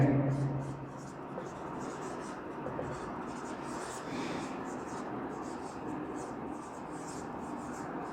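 Chalk or marker scratching across a classroom board as a teacher writes out triangle types for a class 7 maths lesson, a steady close rasping over a noisy room with low background murmur.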